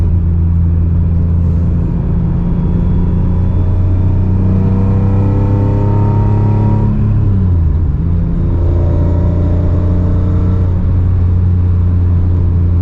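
Interior drone of a BMW E36 M3 sedan with an S54 engine and six-speed gearbox, driven in non-sport mode, as a loud steady rumble climbing in pitch through acceleration, easing at a shift, then pulling again; no voices.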